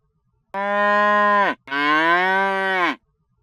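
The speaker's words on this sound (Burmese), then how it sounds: "နွားမကိုတော့လှေပတ်လို့ခေါ်ပါတယ်" A cow moos twice, close and loud. A long, steady low call is followed by a short pause and then a second, slightly longer moo, with silence around both.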